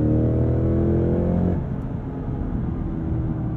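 Cadillac CT5-V Blackwing engine pulls hard while driving, a loud, close, rising harmonic growl that drops off abruptly at a gear change or lift, leaving a broad rumble of road and engine.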